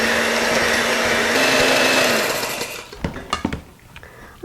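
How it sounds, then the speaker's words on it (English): An electric hand mixer with a whisk attachment runs steadily through heavy whipping cream, a loud close whir that cuts off partway, followed by a few clatters and knocks. "I'm going to take a whisk attachment on my electric hand mixer, and I'm going to whisk this all together"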